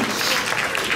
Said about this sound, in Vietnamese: Vỗ tay ạ.